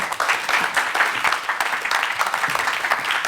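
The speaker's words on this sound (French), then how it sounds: "On peut l'applaudir." A conference audience applauds a panel moderator being welcomed, dense clapping from many hands that holds steady and fairly loud with faint voices beneath.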